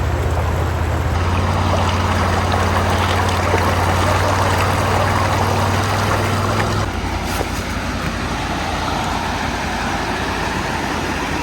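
A creek swollen by heavy rain rushes in a steady, full broadband roar. A low engine-like hum sits beneath it for the first several seconds, then the water carries on alone.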